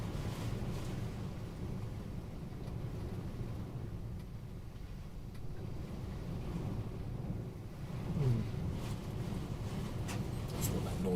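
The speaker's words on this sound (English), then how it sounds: "The rumbling is the rain on the roof." Heavy rain hammers on a roof in a continuous low rumble during a gale, with gusty wind roaring throughout.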